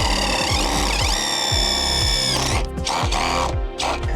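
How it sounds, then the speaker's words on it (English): A power drill drills holes for auxiliary light brackets on an overland vehicle, a loud whining motor rising in pitch with rapid ratcheting pulses, then stopping and restarting in short bursts, close up with no talking. "So we're gonna have to drill holes right there and right there."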